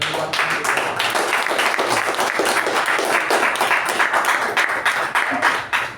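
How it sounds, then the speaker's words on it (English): Steady applause from an audience at a Toastmasters club meeting, dense hand clapping sustained evenly throughout at close range with no voices over it. "So great rousing round of applause for everyone."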